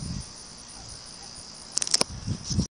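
A cricket chirps in a steady, shrill, continuous trill in a backyard patio at night, fairly close, with a few brief knocks and rustles near the end.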